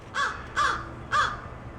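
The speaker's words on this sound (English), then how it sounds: "Oh, he's a little, like, crow raven looking thing." A crow perched up in a tree gives three loud, clear caws, evenly spaced, close by against faint background noise.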